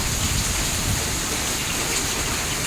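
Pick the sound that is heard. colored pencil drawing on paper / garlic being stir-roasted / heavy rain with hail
heavy rain with hail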